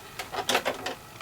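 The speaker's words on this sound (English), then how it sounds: "now I'm going to my sewing machine to stitch it." A domestic sewing machine stitching an invisible zipper into a skirt: a quick run of rhythmic mechanical clicks and whirring needle strokes, close and moderately loud, about six or seven pulses in just over a second, with no talk.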